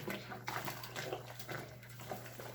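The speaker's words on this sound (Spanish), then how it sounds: "Ahora ya lo voy a sacar del agua con un poquito de removedor." A towel lifted out of soaking water mixed with stain remover: quiet sloshing and splashing with trickles and drips, close by, with no talking.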